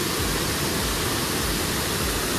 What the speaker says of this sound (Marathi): धबधबा कसा आहे बघा.